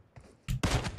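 Sniper rifle shots in a sniper-only team deathmatch video game: two sharp, loud broadband cracks in quick succession, the second heavier and sustained, following a faint softer burst, with no talk over them.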